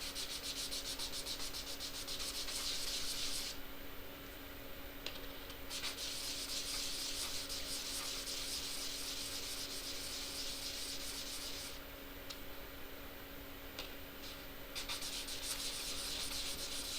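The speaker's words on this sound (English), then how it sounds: "You can see where the sandpaper roughing the part" Sandpaper scrubs a copper part in a steady, continuous rasp, close and fairly quiet, with short lulls where the stroke lightens over a faint constant hum.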